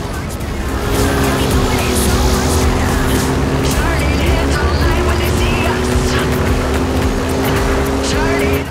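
Steady engine drone of a car in Forza Horizon 5, holding a sustained tone with slight pitch shifts, loud and continuous throughout with faint background effects.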